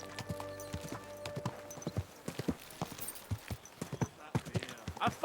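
Horse hooves clip-clop steadily at a walk in the medieval video game Kingdom Come: Deliverance II, close and fairly loud, over a soft musical background.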